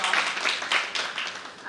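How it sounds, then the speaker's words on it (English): Brief scattered clapping from an audience welcoming a guest at a teaching seminar, a soft hand-clap patter lasting under two seconds and fading slightly at the end. "let's welcome Dr. 𝓜𝓸𝓻𝓮 𝓥𝓲𝓭𝓮 with a very big round of applause"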